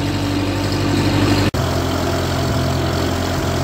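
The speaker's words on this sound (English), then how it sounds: "This is a nice little tractor." A 1955 Ferguson TEA20 tractor engine idles close by with a steady low rumble, cut by a brief dropout near the middle before the same even idle resumes.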